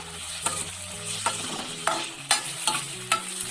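Green chilies and onion sauté in a pan for a breadfruit (kadachakka) curry, with a steady sizzle broken by a spoon scraping and stirring roughly every half second, close by and with no voices.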